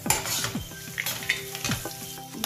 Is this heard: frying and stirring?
yes